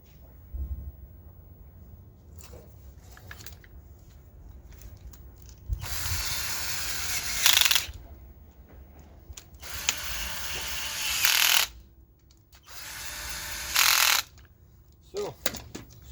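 A Chevrolet Aveo front power window regulator motor and gears running on the bench in bursts of whirring and grinding, three main runs of a few seconds each separated by quiet gaps, with low background noise between them.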